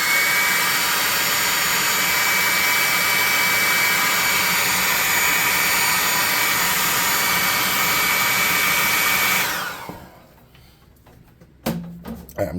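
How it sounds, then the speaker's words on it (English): A hot air gun blows with a loud, steady, close whooshing roar that runs unbroken for most of the time, then cuts off abruptly, leaving brief quiet clatter and handling sounds. "Oh, we have to do the hot air gun first."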